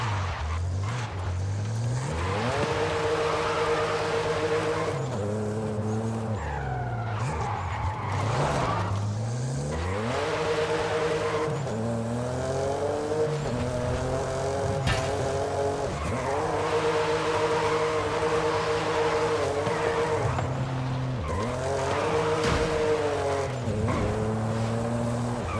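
A tuned car's engine in Forza Horizon 5 revs hard and loud through repeated gear changes, its note rising and falling continuously, with brief tire squeal and skidding as it drifts through city streets.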